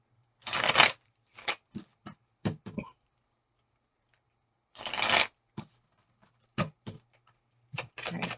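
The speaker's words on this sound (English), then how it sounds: "so I'm just going to give them a good shuffle" Tarot cards being shuffled up close, several crisp riffling bursts separated by short pauses and a few single card snaps, with no talking.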